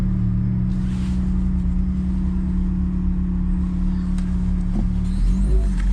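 An Acura RSX Type S engine idles steadily from inside the car, a constant low rumble with a slight rise in revs near the end and a few faint clicks and interior rustles.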